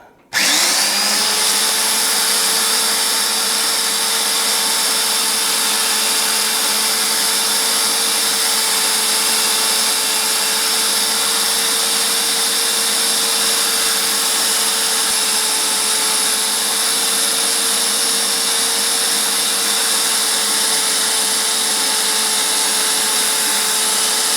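A power drill with a number 30 bit runs steadily at high speed for a long stretch while making a tap wrench, a loud, constant whine that starts abruptly and never lets up.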